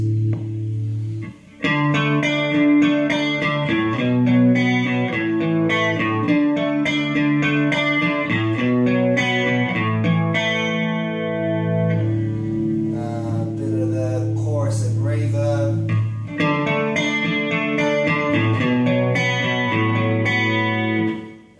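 An electric guitar plays sustained chords and riffs through the chorus effect of a Crate GFX212 120 watt combo amplifier, shimmering and loud throughout with no talk.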